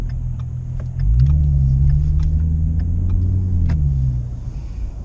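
A car engine rumbles steadily from inside the cabin while driving on a food-delivery run, its low drone swelling after the first second, holding for about three seconds, then easing back.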